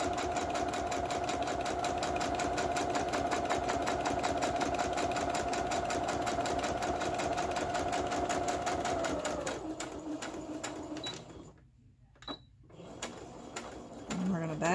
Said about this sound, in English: I'm going to back stitch there a little bit just to make sure it's got a good hold.